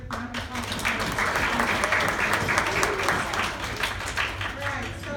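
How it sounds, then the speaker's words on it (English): Sustained applause from a crowd at a volleyball awards banquet, steady dense clapping filling the room from start to finish with faint voices underneath. "Good round of applause."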